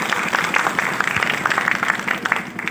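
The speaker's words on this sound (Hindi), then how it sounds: "अपने लिए एक जोरदार ताली बजाएं।" An audience breaks into loud, dense clapping at a meeting hall, a steady close-up roar of hands that holds for a few seconds without a pause.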